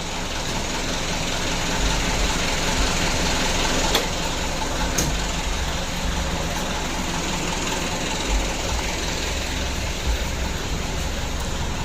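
A Mitsubishi Canter HDL truck's diesel engine, faulted with thick white exhaust smoke, runs at a steady idle with a continuous low rumble and clatter, close and fairly loud, with no talk over it.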